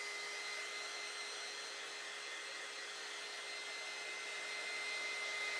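An electric dryer blows a steady, even whirring hiss while drying paint on a craft sugar skull, close and continuous with a faint high whine, no talking.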